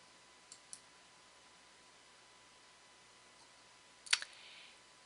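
Computer mouse clicks while opening an ebook's details in a library catalogue: a couple of faint clicks early on, then one sharper click near the end over a quiet hiss.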